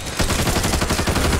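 Rapid, loud automatic gunfire from the zombie shooter Back 4 Blood, a dense unbroken burst of shots close up, with no talk over it.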